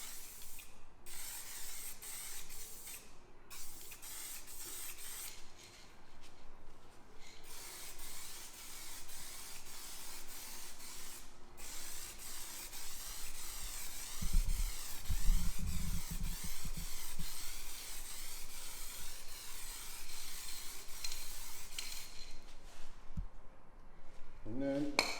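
A spray gun lays a light mist coat of paint during a DIY crash repair, giving a steady hissing spray that runs almost the whole time, with a brief low rumble partway through and speech faintly underneath.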